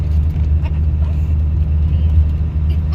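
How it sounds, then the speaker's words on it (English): A truck pulls in near a small square baler on a farm, its steady low engine rumble continuous and fairly loud throughout, with no clear change in pace. "there's a truck coming in here"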